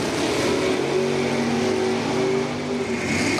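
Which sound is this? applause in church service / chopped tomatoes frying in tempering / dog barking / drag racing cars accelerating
drag racing cars accelerating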